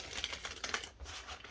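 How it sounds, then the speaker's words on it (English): Tarot cards being shuffled during a monthly reading, a quick run of soft, close riffling clicks and taps, fairly faint, with no talk. "Do a few more shuffles"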